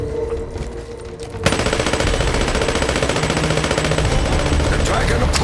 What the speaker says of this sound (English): I think it's maybe a bit sharper of a tone on the gunfire. Whatever, I'll play a little comparison.